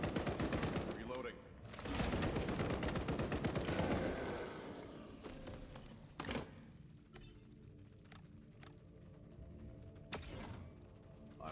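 Gunfire in the video game Blackout: rapid, loud bursts for the first few seconds, then sparser single shots, mechanical clicks and creaks over a quieter background.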